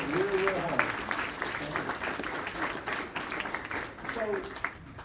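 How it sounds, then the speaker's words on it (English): An audience at a Gamecock rugby hall of fame event applauds the committee members with steady, moderately loud clapping, while a voice speaks briefly over it at the start and near the end. "Y'all give them a round of applause."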